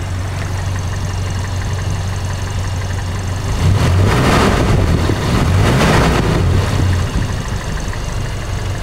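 A cold Toyota Kijang engine idles with a steady low rumble, then is revved with the throttle, its roar swelling for a couple of seconds before settling back to idle, close and without talking.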